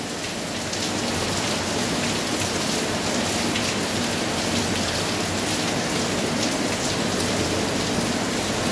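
Heavy rain pours down steadily throughout, a dense, loud, even hiss of drops drumming on surfaces with no letup and no voices.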